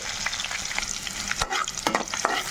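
Onions fry in a pan with cumin seeds for a methi carrot tomato rice, giving a steady close sizzle broken by a few sharp scraping stirs, with no voices.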